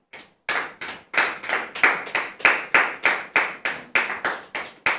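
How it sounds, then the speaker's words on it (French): A studio audience welcomes an arriving guest onto a television set with rhythmic, unison clapping, a roughly steady beat of about three claps per second that starts after a short pause and stays close and sharp. "Merci de la recevoir sous vos applaudissements."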